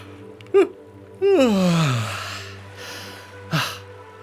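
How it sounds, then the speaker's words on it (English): A voice produces a drawn-out yawn with a rising then falling tone, framed by short breathy sounds before and after. "I feel a yawn starting."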